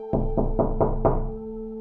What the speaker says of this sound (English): the landlord unexpectedly knocked on my front door to check in